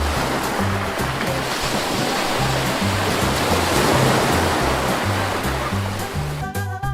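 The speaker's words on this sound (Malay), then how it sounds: "kali ini kita akan menggunakan latar belakang suara ombak" Loud, constant rush of breaking waves fills the whole stretch, a dense wash of surf with a soft melody underneath.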